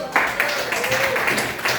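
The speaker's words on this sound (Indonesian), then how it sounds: "Kasih tepuk tangan dulu" A group applauds, with a short burst of brisk, even clapping while a voice carries on faintly over it.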